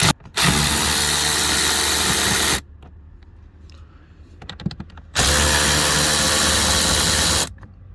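Power driver removing 8mm bolts from the blower motor resistor cover on a 2014-2020 Kia Sorento: two loud steady whirring bursts of about two seconds each, separated by a quieter gap of small clicks and clinks, with no talking.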